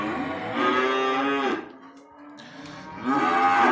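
Cattle low near a farm gate: two long, loud moos separated by a quiet pause, the second rising as the first fades.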